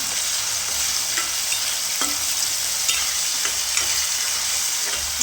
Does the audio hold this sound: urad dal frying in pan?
yes